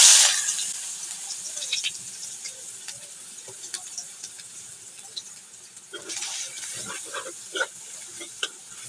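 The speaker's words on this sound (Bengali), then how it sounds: "তেলটা গরম হয়ে গেছে, এখন দিয়ে দিচ্ছি পেঁয়াজ।" Sliced onions hitting hot oil in a pot, giving a loud hiss at first that settles into a steady crackling sizzle, with a fresh burst of spitting and popping partway through.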